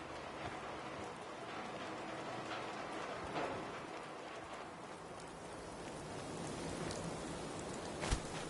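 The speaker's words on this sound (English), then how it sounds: "Hope this rain lets up soon." Steady rain falls across the open wasteland in Fallout 4, a soft, continuous hiss of drops pattering on surfaces, faint and even throughout with one brief louder tick near the end.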